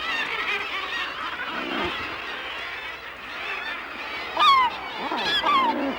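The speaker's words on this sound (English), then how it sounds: "glaucous gull chicks are hungry too" Glaucous gull chicks on an Arctic cliff give thin, high, downward-sliding cheeps, several in quick succession near the end, above a constant rushing background of wind or sea.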